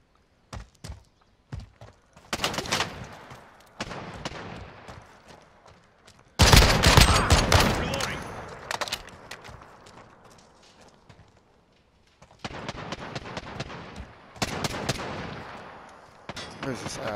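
Gunfire in Call of Duty: Modern Warfare (2019): sharp single shots and rapid bursts arrive in clusters, with one loud, heavy volley in the middle and quieter pauses between.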